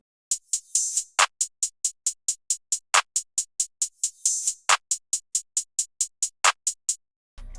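Two layered hi-hat samples in a FL Studio hip-hop beat, one reversed: an even stream of crisp ticks with swelling reversed hats and periodic snare-like hits, ending abruptly with a short low rumble.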